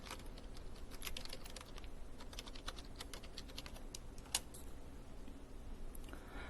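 A computer keyboard clatters in quick irregular bursts of keystrokes while a search is typed into Google Maps, close and fairly soft, with one sharper click midway and no voices.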